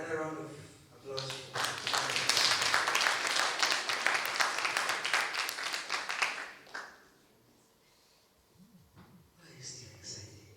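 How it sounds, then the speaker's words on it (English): An audience breaks into applause, a dense wash of clapping that swells for several seconds and then fades away, with a voice speaking afterward. "Another round of applause."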